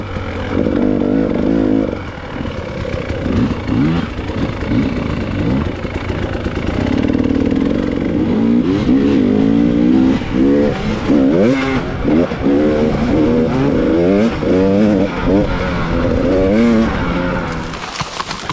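A KTM 300 two-stroke dirt bike ridden in a sand pit, its loud, close engine revving and accelerating continuously with rising and falling pitch through gear changes, no voices.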